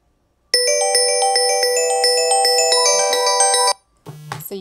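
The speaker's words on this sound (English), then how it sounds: "you see your phone ringtone is set to the Big Adventure." Google Pixel 3a phone playing its Big Adventure ringtone: a bright, loud melodic chime pattern of stacked tones repeating for about three seconds, then stopping abruptly before a brief rustle.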